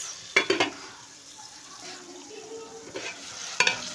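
Onions softening with a pinch of salt in a pan for an Afghan rice dish, a low sizzle under a few sharp clinks of a spoon against the pan near the start and end.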